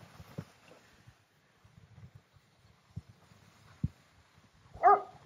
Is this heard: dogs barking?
yes